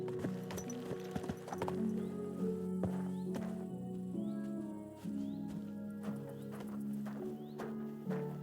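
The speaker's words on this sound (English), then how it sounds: "Your horse nearly trampled me!" Horse hooves clip-clop in Kingdom Come Deliverance 2, a run of quiet, fairly close footfalls with a whinny among them and faint birds in the background.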